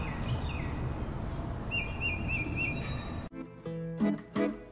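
Faint bird chirps and short trills ring over a rough, steady background noise that cuts out abruptly near the end, followed by clattering sounds.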